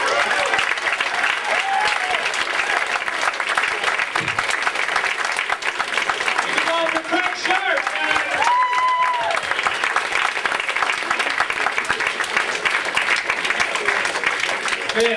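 A comedy club audience applauds a stand-up comedian with sustained, dense clapping that fills the room throughout, while someone speaks over the applause.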